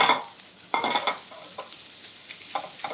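Thinly sliced bacon and onion fry in a pan, with a low sizzle punctuated by several sharp bursts of stirring and tossing, close by.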